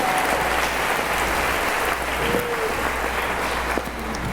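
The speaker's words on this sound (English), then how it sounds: "Give Karen Paula a round of applause for that." Steady applause from an audience at a high school band and choir pops concert, sustained and fairly loud for about four seconds before tapering slightly at the end.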